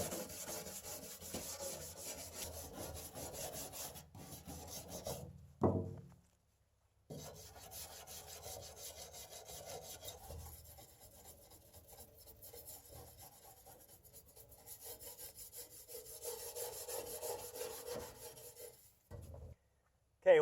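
A stiff brush scrubs dirt and rust off a Foxbody Mustang fuel tank, a rapid, rasping back-and-forth rhythm heard up close, broken by short pauses.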